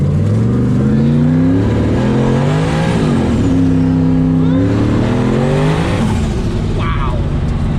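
Ford 427 Windsor with a big turbo accelerating hard while not fully dialed in, loud close engine revving through rising and falling gear pulls, with voices talking over it.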